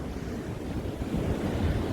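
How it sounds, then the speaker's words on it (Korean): Strong wind and heavy surf on the rocky granite coast of Jeju, a continuous rumbling roar of waves and wind buffeting the microphone, swelling slightly louder toward the end, with no voices. "바람에 너울에 파도 장난 아니고"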